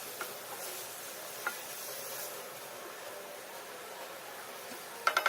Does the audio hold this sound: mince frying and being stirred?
yes